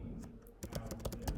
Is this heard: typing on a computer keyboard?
yes